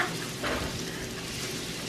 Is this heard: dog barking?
no